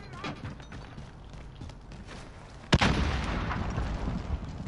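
Gunfire in the video game Warzone: scattered distant pops, then one sharp loud shot followed by a denser stretch of firing and rumble.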